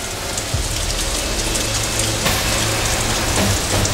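Steady rain falls without a break, a dense, even hiss with a few louder drips and knocks mixed in, close by and loud, with no one talking.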